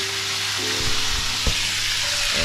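Beef sizzles steadily in a hot pan as it is stirred, with the close frying hiss broken by a few soft scrapes and knocks of the utensil against the pan. No one speaks.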